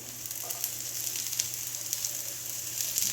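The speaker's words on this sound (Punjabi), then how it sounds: "ਅਦਰਕ ਲਸਣ ਪੇਸਟ ਨਾਲ ਆਪਾਂ ਇਹਨੂੰ ਸ਼ਿਮਲਾ ਮਿਰਚ ਨੂੰ ਭੁੰਨ ਲਵਾਂਗੀ" Finely chopped bell pepper fries with onion and green chili for Mumbai-style pav bhaji, giving a close, continuous sizzle with small crackling pops throughout.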